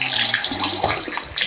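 Fat rice noodles are rinsed under running tap water, a brief splashing, hissing stream of water from a faucet, close and fairly loud.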